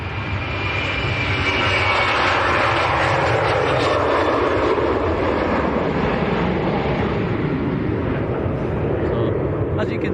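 An aircraft roars loudly along the Leeds Bradford Airport runway, its engine noise sustained and broad, with the pitch sweeping as it passes and fades; voices talk over it.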